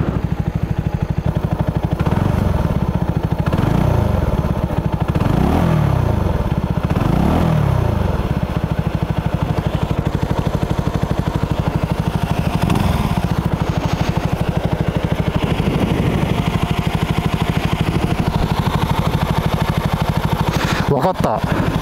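Mutt Motorcycles DRK engine running while the bike sits stopped, a steady mid-pitched throb that holds throughout with a few brief rises, with talk over it.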